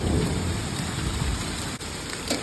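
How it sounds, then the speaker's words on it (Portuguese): Heavy rain mixed with falling ice pours down steadily in Interlaken, a loud, dense, continuous hiss of drops striking surfaces with no voices. "Tá caindo gelo com essa chuva."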